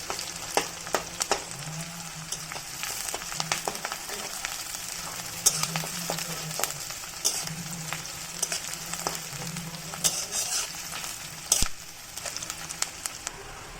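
Onions frying in oil for chicken kosa give off a steady crackling sizzle, with occasional stirring clicks and scrapes of the spoon.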